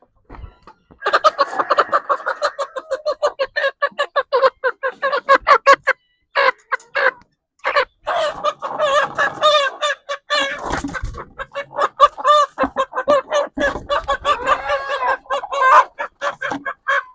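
Native hens on a farm cluck in quick, repeated bursts, close and fairly loud, with a busy stuttering rhythm that runs almost without pause.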